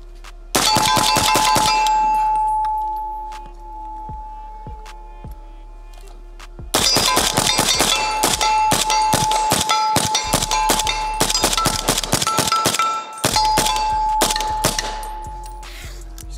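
A PSA JAKL 300BLK rifle fires rapid strings of shots, the bursts sharp and loud with ringing metallic clangs, in two long volleys separated by a few sparse shots and a pause.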